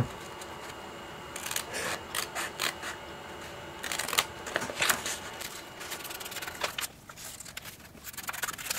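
Scissors snipping through paper while a Christmas card is cut out at a craft table, heard as a quiet, uneven series of short crisp cuts and rustles with pauses between them.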